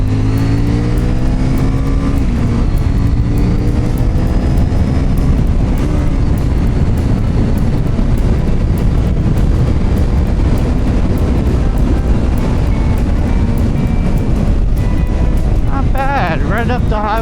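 A 2024 CFMOTO 800NK motorcycle accelerating up to highway speed, its engine note climbing through rising tones under heavy wind rush, loud and close, with a voice talking over it.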